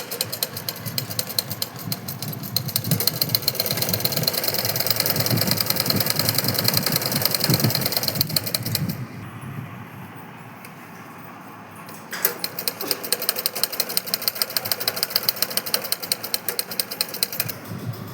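A sewing machine stitches a border onto a salwar, running in fast, rattling bursts of rapid clicking stitches, pausing briefly, then starting up again at the same steady, mechanical pace.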